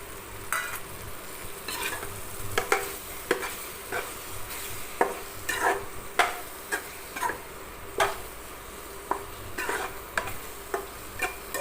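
Eggs with tomato sizzle steadily in a pan for egg gravy while a utensil scrapes and taps against it in repeated strokes, close up.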